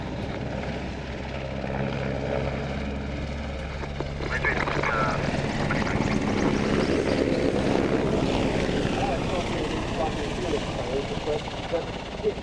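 Merlin helicopter flying at the Waddington Airshow, a steady loud rotor and engine drone that swells after a few seconds and holds, with radio chatter and talk faintly underneath.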